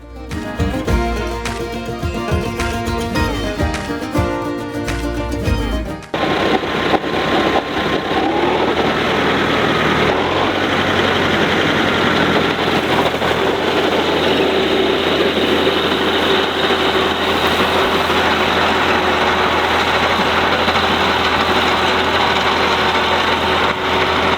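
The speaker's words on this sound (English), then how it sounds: "It's my first time running a cutter on a tractor." A loud, droning tractor engine runs steadily and close for a long stretch while working a hay cutter, with a mechanical whine, after a short burst of music at the start.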